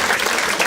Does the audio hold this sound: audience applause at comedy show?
yes